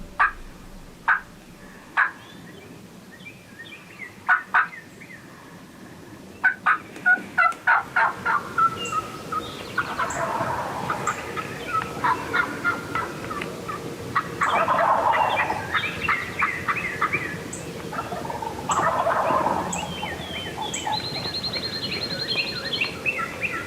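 Wild turkeys sound off at a cornfield edge: sharp, widely spaced yelps at first, then a run of quick hen yelps with loud gobbles rolling in and repeating over steady outdoor background noise.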